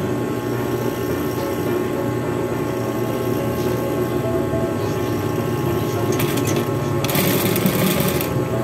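A sewing machine runs steadily, stitching doubled seams at the corners of a cord-trimmed fabric piece in a tailoring shop, a continuous mechanical whir heard close and alone, growing slightly louder near the end.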